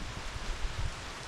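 Rain falling on and off over a dock on a wet fishing day, a steady soft broadband patter, fairly close and even, with no voices.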